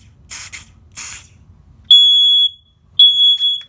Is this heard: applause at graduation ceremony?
no